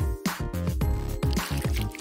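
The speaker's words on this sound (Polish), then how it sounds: "Zanurzę w wodzie włosy lalki." A doll's hair is dipped and squeezed in a bowl of water tinted with food colouring, giving close wet squishing and dripping sounds in uneven bursts, with no talk.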